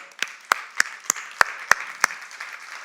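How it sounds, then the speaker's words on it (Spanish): Sparse, individual claps ring out in a church congregation, about seven distinct sharp hand claps spaced roughly a third of a second apart, fairly close and loud, with nothing else around them. "Dale un aplauso al Señor."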